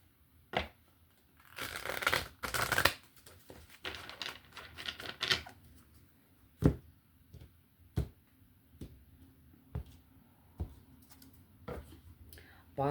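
Close, papery riffles and flutters of tarot cards being shuffled, followed by a series of scattered light taps and clicks in a quiet room.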